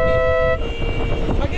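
An e-bike horn honks in a steady, sustained tone for about half a second, then stops and leaves outdoor noise and faint chatter from a group ride.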